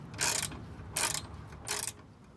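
A socket wrench ratchets in three quick bursts while a 10mm bolt is undone during a Ford Focus front-end teardown, each burst a close, crisp clicking with short pauses between.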